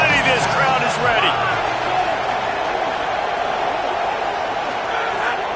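Deafening roar of a football stadium crowd before a big third down at an Ole Miss game, a dense, sustained wall of cheering and shouting that stays loud and steady throughout.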